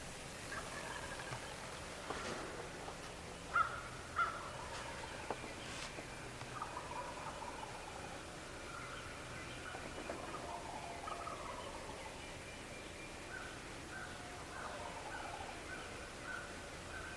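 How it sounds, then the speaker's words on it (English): Wild turkeys gobble at dawn on a Missouri spring morning, several distant birds giving faint, rattling gobbles scattered across a quiet background, with a few louder calls standing out. "the turkeys are already gobbling"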